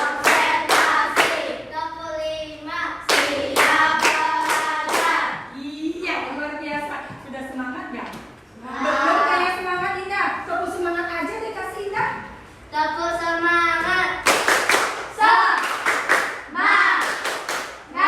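Pupils in a fifth-grade Indonesian science classroom clap in a patterned routine, bursts of sharp group claps alternating with children chanting in unison, loud and close throughout.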